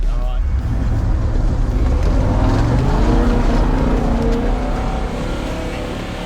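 An offroad car fitted with an aftermarket exhaust revs hard and drones steadily at close range. The loud, continuous engine roar fades a little near the end.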